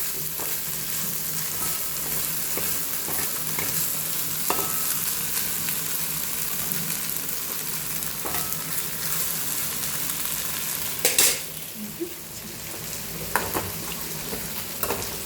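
Ground spice paste for chicken biryani sizzles steadily in a hot pan, with occasional scraping and clinking as a utensil stirs it. No talk.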